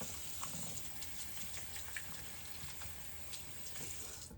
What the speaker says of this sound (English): There's dirt on my hands. I think I should wash them.